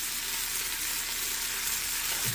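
Beef stew in a pot sizzling steadily as it is stirred, a constant close hiss of frying with a brief low knock near the end, no voices.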